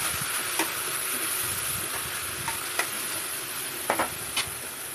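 White bean curry being mixed with chili powder in a pan, a constant sizzle with occasional spoon clinks and scrapes against the metal, close up and without speech.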